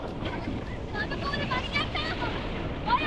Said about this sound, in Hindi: अभी पानी का फ्लो भी बहुत तेज हो गया है, लहरें भी ऊंची ऊंची आ रही हैं।